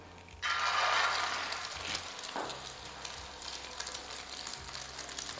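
Chicken shami kababs dipped in beaten egg hit hot oil with a sudden loud sizzle that swells, then settles into a steady crackling fry alongside a low background hum.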